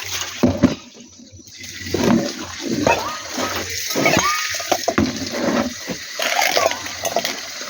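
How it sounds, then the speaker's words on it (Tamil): Water is poured out onto the ground outdoors in short splashing bursts between pauses, with a person talking over the pouring. "அதனால் நம்ம தண்ணி வச்சு கீழே ஊற்றிடுவோம்."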